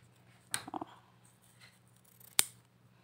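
Scissors cut pieces of satin ribbon for a flower craft: two or three crisp, close snips with a short pause between them, in an otherwise quiet room.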